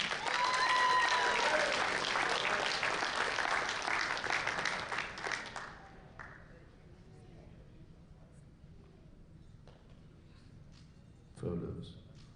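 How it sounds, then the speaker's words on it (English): A crowd at a powerlifting national championship claps loudly for a gold medal winner, dense applause for about five seconds that fades into quiet hall ambience, with a brief burst of noise near the end. "a big round of applause for Chris Tran"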